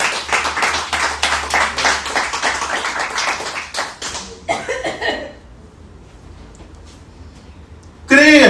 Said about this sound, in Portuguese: aplauda o Senhor com o seu melhor